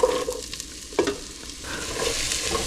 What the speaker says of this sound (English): And just saute these vegetables until they're tender